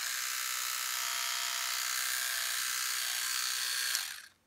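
A Sonic electric toothbrush fitted with a replaceable brush head buzzes steadily at close range with a bright, high whine, then winds down and stops near the end.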